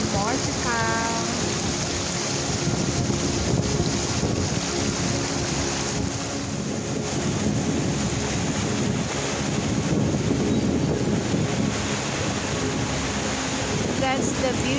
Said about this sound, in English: beautiful Latourell waterfalls in Oregon